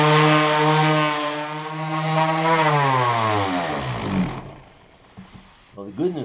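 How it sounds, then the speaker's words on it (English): Power sander working across a wooden charcuterie board finished with Danish oil, a loud steady whine that winds down and stops partway through, followed by quieter handling noises. "let me sand through this"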